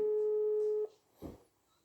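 A telephone tone sounds steadily for under a second during a call, then stops, followed by a brief faint click or rustle and near silence.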